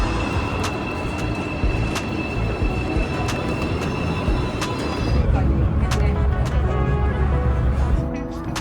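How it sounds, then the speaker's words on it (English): Express airport train into Seoul rolling steadily, a continuous close rumble of wheels on rail with periodic clicks and a brief rise in roar near the end, no talking. "I'm taking the train from the airport into Seoul and that I took the express train"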